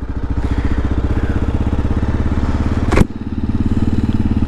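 A 2022 Kawasaki KLR650 single-cylinder motorcycle revs loud and close on its first ride from the dealership, with a steady rapid engine pulse, a sharp clack near the three-second mark, then the engine drone continuing.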